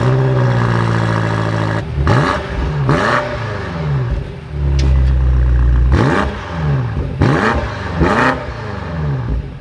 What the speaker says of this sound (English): But let's fire this M8 back up.